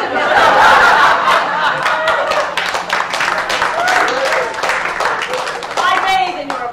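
A crowd claps and cheers loudly, with scattered laughter mixed into the steady applause throughout.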